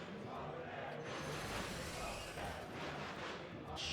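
A large audience at an esports tournament, a Hearthstone semi-final at Assembly Winter 2015, cheers loudly and continuously in a dense, roaring wall of crowd noise with no clear individual voices.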